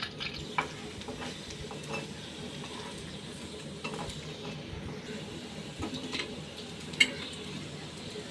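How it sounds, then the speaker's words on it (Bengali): Pieces of egg puri pitha coated in batter fry in hot oil, a faint steady sizzle with occasional soft ticks and utensil taps, heard alone without talking. "এগুলোকে এবার আমি তেলের মধ্যে দিয়ে ভেজে নেব"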